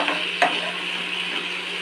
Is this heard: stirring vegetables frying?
yes